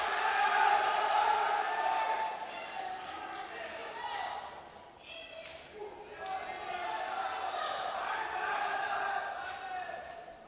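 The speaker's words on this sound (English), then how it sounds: "Support from the home crowd here, as I'm sure you can hear." A home crowd cheers and roars at the European Open Classic Powerlifting Championships 2024, men's 83 kg, as a lifter attempts 180 kilos. The sustained, loud arena noise swells and dips, with a commentator talking over it.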